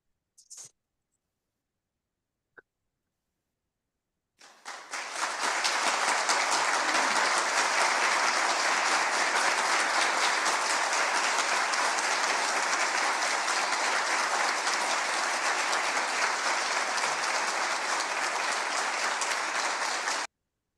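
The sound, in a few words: round of applause from audience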